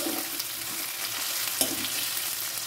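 Onions stir-fried in a pan until translucent, a steady close sizzle with faint scraping of the spatula and one small clink.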